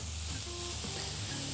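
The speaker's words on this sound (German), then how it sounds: "Das lasse ich jetzt rundherum anbraten." A sirloin steak cut from the back of the beef searing all over in a hot pan gives a steady, dense sizzle and crackle throughout, close and alone with no voices.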